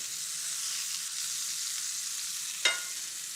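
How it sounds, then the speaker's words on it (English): A pork chop seasoned with a sugary mix sears in a hot pan, giving a steady, even sizzling hiss with one brief click partway through. "when meat first hits a pan, if it's a little bit wet, it will stick"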